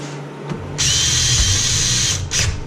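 A power drill whines as it enlarges a bolt hole on a Simplicity tractor snow blower, a close, loud burst of about a second and a half followed by a short second spin-up.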